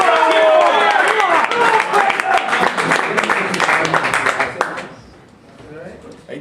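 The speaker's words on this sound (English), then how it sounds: "Let's have a big cheer for local fighters" Crowd at a boxing weigh-in breaks into cheering and clapping for the local fighters, a loud dense burst that tapers off toward the end.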